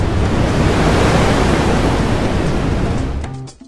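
Loud, steady broadband roar of wind buffeting the microphone, continuous for several seconds before cutting off abruptly near the end.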